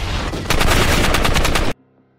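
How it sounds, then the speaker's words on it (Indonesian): Rapid automatic gunfire from a shootout in a TV series episode, a loud dense burst of shots that ends abruptly into near silence. "Namun tiba-tiba si Terry dan teman-temannya melepaskan tembakan."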